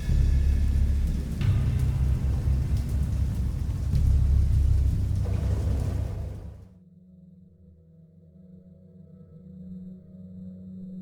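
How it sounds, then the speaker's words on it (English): Heavy rain pours steadily with deep rumbling thunder underneath, then cuts off abruptly into a quiet low hum for the remaining seconds. "I heard pearls of thunder and other tones which nature utters only in her wildest moods"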